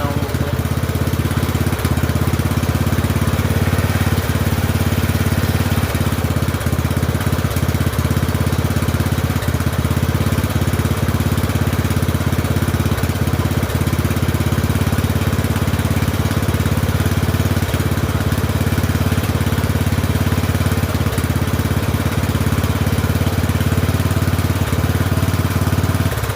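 A Poulan 12538 riding mower engine, fitted with a new carburetor, idles loud and close in a steady, unbroken drone with a faint regular ticking pulse.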